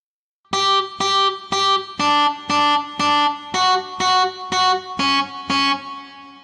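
Eleven evenly spaced chords ring out in a steady rhythm, each short and buzzing with a gritty, overdriven electric guitar edge, the last one fading away.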